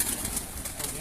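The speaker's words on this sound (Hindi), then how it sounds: "ये वो कबूतर है जी माशाल्लाह" Soft, low cooing of rooftop pigeons close by, murmuring continuously over a faint background hiss.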